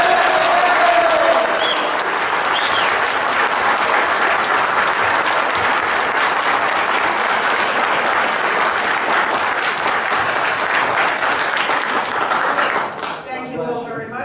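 Sustained, loud applause from an audience at a township candidates forum, dense and steady for a long stretch with a voice briefly over the start, then dropping off near the end as talking resumes.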